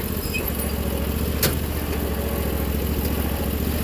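Old Sears lawn tractor with its mower deck engaged, engine running at a steady idle-like drone, close and continuous throughout with a brief sharp click near the middle.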